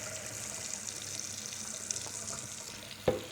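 Water drains steadily with a soft, continuous hiss and trickle as rinsed rice is strained in the kitchen, ending with a faint knock.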